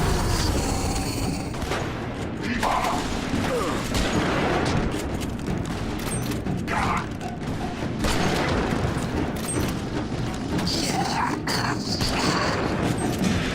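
Rapid automatic gunfire from a gun turret in the video game The Bureau: XCOM Declassified, a dense, continuous barrage of shots and booms filling the whole stretch at steady loudness.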